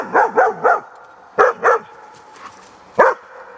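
A dog named Molly barks close and loud: a quick run of three yappy barks, a pause, two more, then one last bark after a short quiet gap.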